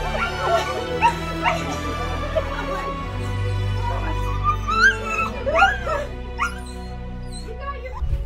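A dog whimpers, yips and gives short barks at its reunion with its owner, high excited cries close by and repeated throughout over low background noise.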